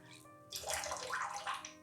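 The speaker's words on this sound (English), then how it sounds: "we are going to squeeze the water out of this brush just like this" Water squeezed by hand out of a wet shaving brush while preparing shaving soap lather: a soft, close, gurgling squish of dripping water after a brief quiet start, lasting about a second and a half.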